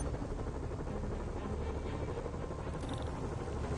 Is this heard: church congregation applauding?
no